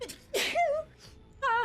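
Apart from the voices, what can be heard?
sneeze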